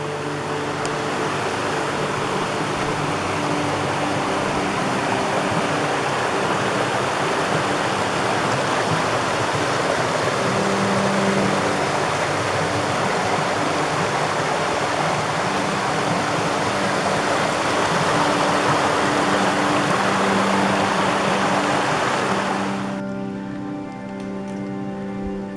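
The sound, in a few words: small stream at trail water crossing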